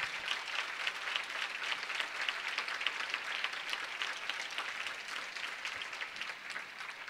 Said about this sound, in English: And give them a round of applause, too.